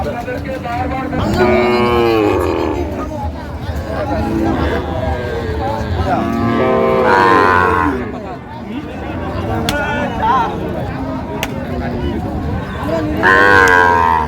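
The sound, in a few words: cow and calf at a cattle market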